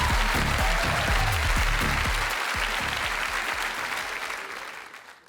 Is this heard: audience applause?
yes